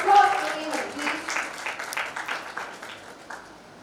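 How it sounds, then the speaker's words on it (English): An audience at a school farewell ceremony breaks into applause, a dense burst of clapping that starts strongest and gradually thins and fades over a few seconds, with possible cheering mixed in. "Ladies and gentlemen, a huge round of applause for Nehal, please."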